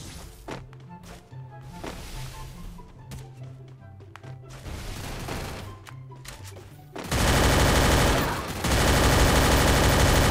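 Video game gunfire with shotgun blasts: scattered sharp bursts and clicks at moderate level at first, then a dense, loud roaring barrage in the final few seconds.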